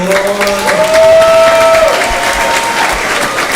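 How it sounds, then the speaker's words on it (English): Audience applause fills a farewell dinner hall, a dense, steady wash of clapping from a sizeable crowd that holds loud for a few seconds, with a faint sustained tone running through the first half. "Give him a big round of applause."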